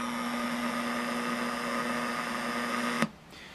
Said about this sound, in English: I hear a lot more static in there.